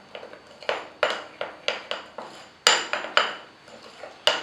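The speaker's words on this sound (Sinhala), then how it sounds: "කොකෝ පවුඩර් ටිකක් දාගන්න. ඊට පස්සේ හොඳට කලවම් කරනවා." Cocoa powder mixed into a chocolate topping in a bowl for homemade donuts: a spoon scrapes and clinks against the bowl in a steady run of about a dozen sharp strokes, close and fairly loud.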